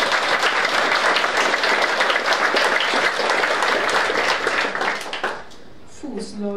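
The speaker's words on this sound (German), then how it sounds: "Vi kan gi en ekstra applaus for deg." A crowd applauds loudly with dense, continuous clapping that fades out near the end, followed by a voice beginning to speak.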